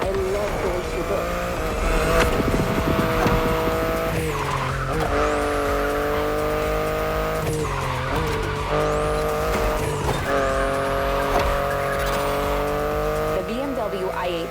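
A BMW i8 races through The Crew Motorfest with a loud, steady engine drone, its pitch climbing and dropping through gear shifts, and bursts of tire squeal and skidding. Game music plays underneath.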